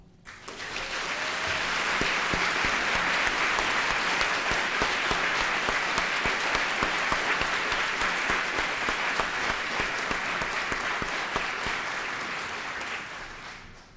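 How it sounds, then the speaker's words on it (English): Sustained audience applause at a police service awards ceremony in Durham, a dense, steady wash of many hands clapping that swells in, holds for over ten seconds and tapers off at the end. "If you all could please put your hands together one more time to applaud our recipients."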